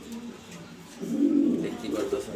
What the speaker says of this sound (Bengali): সো বন্ধুরা, দুইটাই নর কবুতর,